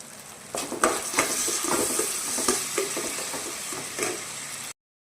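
Onions fry in a pan for a chicken fry, a steady close sizzle broken by repeated scraping stirs and light clinks of a utensil, ending in a sudden cut to silence.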